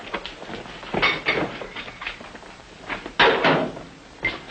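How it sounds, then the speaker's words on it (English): A door being locked in an old Western setting: a few sharp wooden clunks and thumps of handling and latching, fairly close, with no talking. "Now go lock the door."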